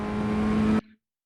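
A Ray FF1600 open-wheel race car engine in iRacing at Sebring Club, a steady loud drone that cuts off sharply, with a brief faint tail.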